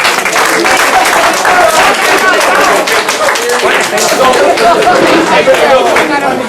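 Loud, sustained applause from a youth summit audience fills the space, steady clapping with scattered cheers and chatter mixed in.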